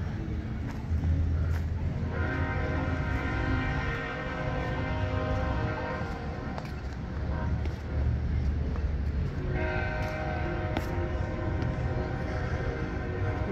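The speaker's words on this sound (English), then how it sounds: "Seems there's a train somewhere close by." A train rumbles past close by, with a low steady roar and bursts of squealing, ringing metal tones rising and fading over the noise.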